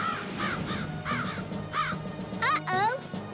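Cartoon crows in a garden give a string of harsh caws, about eight calls in quick irregular bursts, growing louder and denser toward the end.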